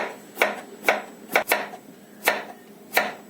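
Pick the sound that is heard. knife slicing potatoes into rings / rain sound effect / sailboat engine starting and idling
knife slicing potatoes into rings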